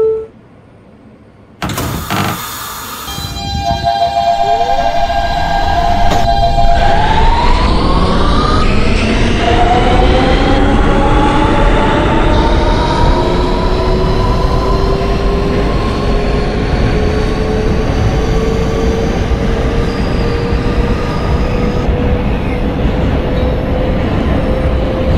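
A simulated R160B Siemens New York subway car on the Q line: a two-tone door chime, the doors thudding shut, then loud traction motors whining upward in pitch as the train pulls away and the steady rumble builds.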